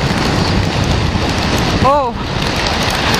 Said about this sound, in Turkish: dönüş yolunda hemen bizi yağmur yakaladı